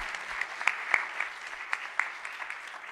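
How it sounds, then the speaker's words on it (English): Applause from an audience at a cycling proclamation event, a steady patter of clapping with a few sharper claps standing out, moderately quiet and without talk. "let's give them a round of applause for that"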